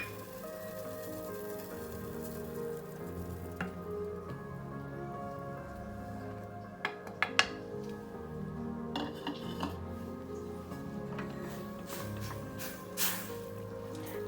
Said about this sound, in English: Now we'll have to mix it till all this water get absorbed.